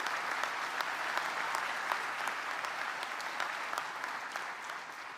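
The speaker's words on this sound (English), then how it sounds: "Let's give both of them a round of applause." Audience at a Folsom Lake College commencement ceremony applauding, a steady, dense wash of many hands clapping at a distance for several seconds.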